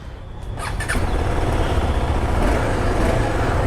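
Exhaust note of a KTM 250 Adventure motorcycle, a steady close engine drone that rises slightly and holds, with a brief squeal near the start.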